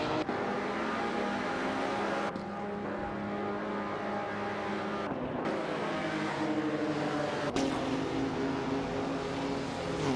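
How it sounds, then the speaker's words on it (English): Race cars running on a track in a 1950s classic racing setting, a continuous loud engine drone with shifting tones and gear changes, steady and close throughout. "We've just seen some intense racing action here on the track."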